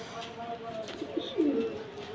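Teddy pigeons with new feathers coo softly and briefly nearby, a low throaty call rising near the end over faint background murmur.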